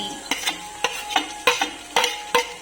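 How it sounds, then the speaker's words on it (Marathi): Chillies go into a hot kadhai for a vegetable dish. About eight short, sharp scraping and clinking stirs sound in a quick uneven rhythm over a faint sizzle, up close and without voices. "तर मिरची गेलेली आहे कढईमध्ये."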